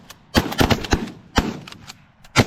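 Shotgun blasts ring out during a six-man duck hunt: a quick volley of about six loud, sharp shots close by, bunched in uneven pairs.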